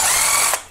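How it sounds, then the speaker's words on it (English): A screw being backed out of an old shoe on a double-hung window sash, a loud close ratcheting, grinding turn that runs steadily and then stops with a brief click. "All we're going to do is unscrew this old shoe, or this incorrect shoe."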